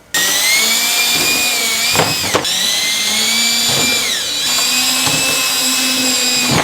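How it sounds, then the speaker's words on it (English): A power drill whines steadily and loudly while drilling wood, its pitch briefly sagging and recovering as the bit bites in. "I'm going to do a bigger drill bit just to make sure"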